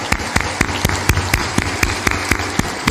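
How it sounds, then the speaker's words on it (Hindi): A gathered audience claps in welcome for a group of guests at a religious discourse, a loud run of separate sharp claps coming in an uneven rhythm, with no talk over it. "ताली बजा दो इनके अभिनंदन में"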